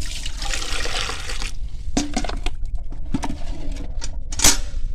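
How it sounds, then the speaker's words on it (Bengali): Water soaked with onion is poured from a container onto okra plants growing in mixed organic soil, a steady close splashing pour lasting about a second and a half, followed by a few lighter drips and trickles. "এই যে পেঁয়াজের জল ভেজানোটা দিয়েছি"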